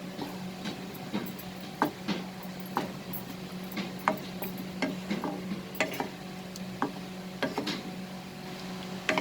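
A spoon scrapes and taps steadily through chicken curry with added coriander and cumin powder. The quiet, irregular stirring clicks repeat over a faint sizzle, and no one speaks.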